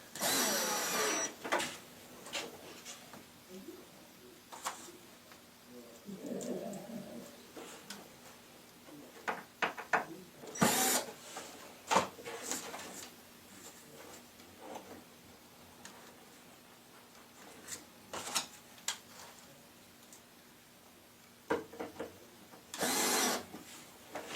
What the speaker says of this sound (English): Once you have your 4 screws set, then go back and snug them up nice and tight.